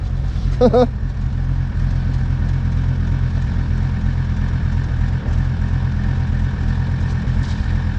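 A vehicle engine runs on a cold winter day just after a cold start, holding a steady, close, low idling rumble throughout, with a brief tonal sound near the start.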